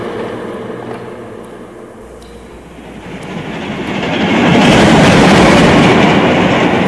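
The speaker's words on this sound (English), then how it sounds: "It's a train." A cartoon train in a 1986–87 Ghostbusters episode rumbles closer out of a quiet, eerie background, swelling into a loud, steady roar of rolling wheels and clatter over the last few seconds.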